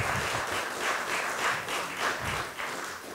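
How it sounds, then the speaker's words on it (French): A small crowd claps steadily for a few seconds, a brief, moderate round of applause without voices. "Petit applaudissement."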